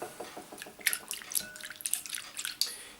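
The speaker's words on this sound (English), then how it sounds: "then give it a good whisk." Whisk beating horseradish sauce made with goat's milk, sugar, salt and black pepper, a quiet rapid series of light clicking and splashing taps close by, with no talking.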